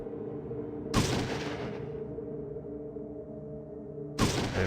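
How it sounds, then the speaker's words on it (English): Gunfire from a newly acquired gun in the 1998 video game Fallout 2: two loud, sharp shot bursts about three seconds apart, each with a ringing tail, over a steady droning game soundtrack. "I guess I could try out my new gun"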